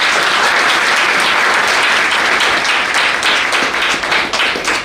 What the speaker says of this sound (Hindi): तो सर के लिए एक बार जोरदार ताली बजाइए